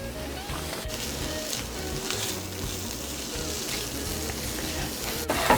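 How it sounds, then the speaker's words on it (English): Garlic and mushrooms fry in a pan with a steady, close sizzle that holds evenly throughout, with a faint clink near the end. "Garlic and mushrooms go in."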